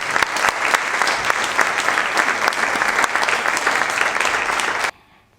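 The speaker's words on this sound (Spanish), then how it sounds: "Fuerte el aplauso y el agradecimiento para Hilda Molina." Audience applause at a talk in the San Isidro council hall, dense sustained clapping from a full room that holds steady for about five seconds and then stops abruptly into near silence.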